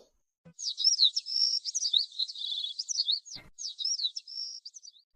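Cartoon birds chirp and tweet in quick bright trilled phrases that run almost continuously for several seconds, pausing briefly once, with no voices over them.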